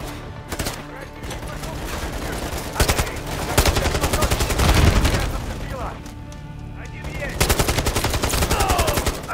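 Loud, dense gunfire from Modern Warfare 3: rapid automatic bursts and heavy booming shots, nearly continuous with brief pauses.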